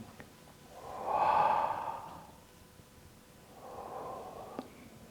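Slow, soft breathing during a guided relaxation exercise, a long audible exhale followed by a quieter second breath, close and gentle against a faint background hiss.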